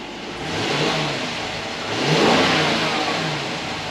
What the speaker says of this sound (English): you definitely get to hear a little bit of that V8 rumble, and it does sound good